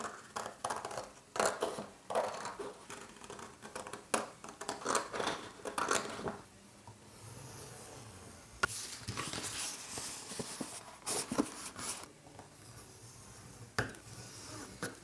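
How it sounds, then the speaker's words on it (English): Sheets and pockets of paper for a craft folio being cut and scored, rapid crisp snips and scraping strokes in uneven bursts, close up and steady throughout without speech. "the first step will be to cut out all the sheets, all the pockets, score them and fold them as well"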